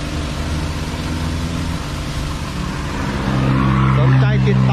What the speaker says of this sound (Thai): แล้วก็ทดสอบกับปั๊ม3สูบนะครับเป็นละอองฝอย